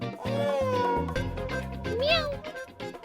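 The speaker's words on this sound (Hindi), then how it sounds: "ये बिल्ली कहाँ से घुस आई?" A cat meows repeatedly indoors in a Hindi TV drama scene, rising and falling cries over a layer of background music, with people talking around it.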